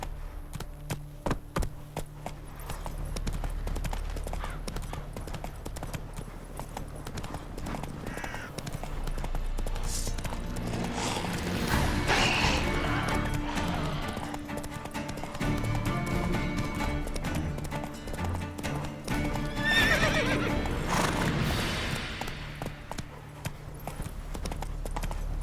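A horse gallops with steady hoofbeat clip-clop through most of the stretch in The Witcher 3: Wild Hunt, with a brief whinny and game ambience layered over the running rhythm.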